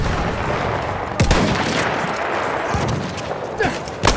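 Machine gun fire in a war video game, steady rattling bursts at close range with a few sharper cracks standing out, continuous and fairly loud.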